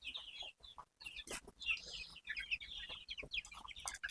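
Country chickens cluck and chatter in a shed, a loose run of short, fairly faint calls overlapping one another.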